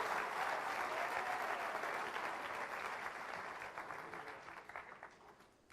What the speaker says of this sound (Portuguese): Se é para aplaudir, aplauda com força